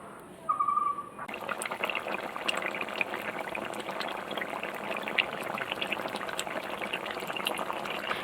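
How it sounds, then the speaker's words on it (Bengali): Sea crab curry with chuijhal comes to a boil in added water, giving a steady bubbling, pouring-like wash of liquid that runs throughout after a brief sharper sound at the start. "ফোটা শুরু হয়ে গেল"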